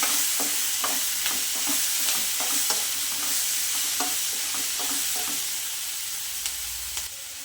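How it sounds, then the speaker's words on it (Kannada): Spices and coriander seeds sizzle in hot oil while a utensil scrapes and stirs the pan in a steady, repeated rhythm, close up. "ಇವೆಲ್ಲ ಚೆನ್ನಾಗಿ ಫ್ರೈ ಆಗಬೇಕು"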